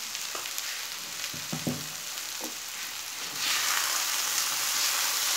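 Drumstick flowers frying in a pan over a low flame, a steady broadband sizzle running throughout with a few scattered stirring clicks, the hiss swelling louder near the end.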